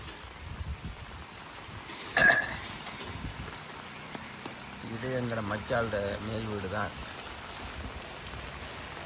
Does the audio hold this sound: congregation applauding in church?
no